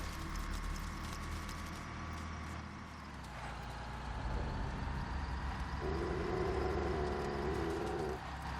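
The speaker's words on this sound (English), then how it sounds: "That sounds like a truck, doesn't it?" A truck in the Metal Gear Solid V video game rumbles by at a distance, its faint engine swelling toward the end amid quiet ambient game noise.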